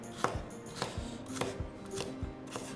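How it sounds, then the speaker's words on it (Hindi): A knife chops mango steadily against a cutting board, sharp knocks coming roughly every half second, close and clear with no talking. "इसी तरीके से बाकी आम भी काट लेंगे"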